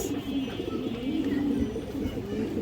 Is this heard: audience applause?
no